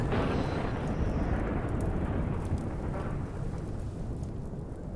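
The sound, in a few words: thunderstorm in the video game RimWorld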